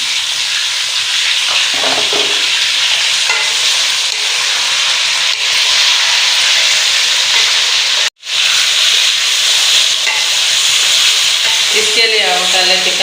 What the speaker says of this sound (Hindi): अब हमारा ऑयल गर्म हो चुका है, इसमें अब हम चिकन डाल लेंगे।